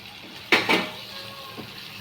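Yam pieces go into a cooking pan of tomato with dried prawns, landing as two quick close soft clatters and a brief rustle, then a faint later tap over a low steady background.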